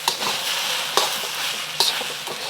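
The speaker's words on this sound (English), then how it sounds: "Adding my egg back in, breaking up the egg, and tossing it all together." Chicken fried rice stir-fried in a pan, egg broken up and tossed through, gives a steady close sizzle with scraping stirs and a few sharp utensil clicks throughout.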